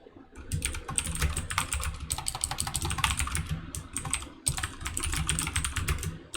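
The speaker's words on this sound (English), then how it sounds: "Yes, that's me typing." Close, rapid typing on a computer keyboard, with dense bursts of key clicks that pause briefly near the two-second mark and again around four seconds before resuming steadily.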